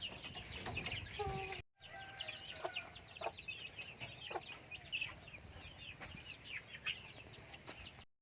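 Backyard chickens, with a hen sitting on eggs, cluck in a series of short calls over steady farmyard noise, and a few clearer notes stand out near the start.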